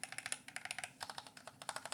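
Keys on a Razer Huntsman V3 Pro TKL keyboard are pressed in a quick, steady run of close, crisp clicks with slightly scratchy switches and no talking.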